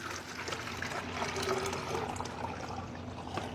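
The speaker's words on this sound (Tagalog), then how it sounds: "meron ako ditong empty bowl at pupunuin natin siya ng tubig" Water poured into an empty bowl, a steady broadband trickling and splashing that continues without a break for the whole stretch, fairly loud and close, with no talk over it.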